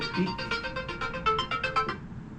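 A phone ringtone plays a rapid, regular pattern of bright repeating tones for about two seconds, fairly close and clear, then cuts off, with no talking over it.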